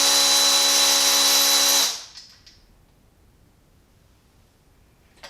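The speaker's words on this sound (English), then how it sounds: "I'm just going to take out our 15 mil. Yeah, 15 mil long screw that holds it to the bottom bracket." A power tool whirs loudly for about two seconds while removing a 15 mm alternator bolt from an SRT4 engine, then stops abruptly, leaving near silence with a faint click at the end.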